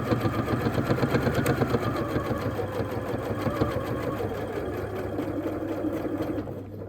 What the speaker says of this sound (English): I'm going to position my needle just 2 or 3 millimetres away from the edge of the flap, and I'm just going to be running a straight stitch